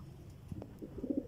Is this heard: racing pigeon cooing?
yes